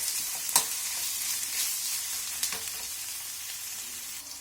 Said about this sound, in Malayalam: ഇനി നമുക്ക് സബോള ഇടാം സബോള ഇട്ട് ഇതൊന്നുകൊണ്ട് വാറ്റട്ടെ